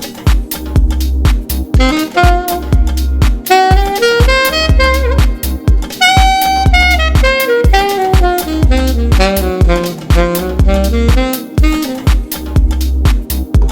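A saxophone runs through a blues scale in A, loud and continuous, with sustained notes and quick bends and no voices.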